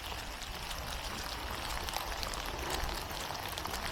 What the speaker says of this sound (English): I do enjoy being out in the rain.